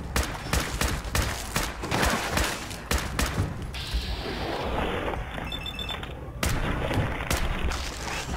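A grenade blast and heavy gunfire in Fallout 4, a loud, dense barrage of repeated booming impacts running through the clip, followed by a brief quieter stretch.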